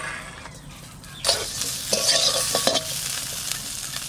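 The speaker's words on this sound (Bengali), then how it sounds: "আর এই মাছ কটা আমি দিয়ে দেবো কড়াইতে" Oil sizzles steadily in a wok, swelling louder as small koi and lata fish are added, with a few sharp bursts of spattering and faint scraping, no voices.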